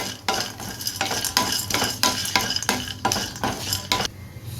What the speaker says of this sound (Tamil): இதில் ஒரு ஸ்பூன் கடலைப்பருப்பு அதையும் இதில் சேர்த்துருவோம் ரெண்டையும் நல்லா வதக்கிக்கலாம்